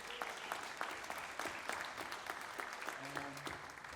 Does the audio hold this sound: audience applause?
yes